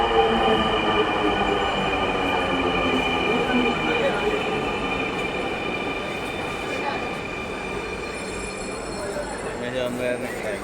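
A Dhaka metro rail train glides into a platform with a loud, steady whine and rumble, then rising wheel squeal and brake tones as it slows near the end.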